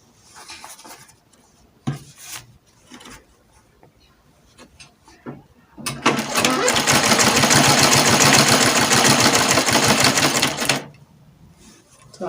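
Sewing machine stitching gown fabric, a few short bursts of clatter at first, then a loud continuous run of rapid stitching for about five seconds before it stops abruptly.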